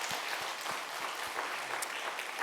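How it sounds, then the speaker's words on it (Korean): A church congregation claps together during a Sunday worship service celebrating baptisms and confirmations, giving a steady, moderately distant round of applause that holds evenly throughout. "박수로 축하하겠습니다"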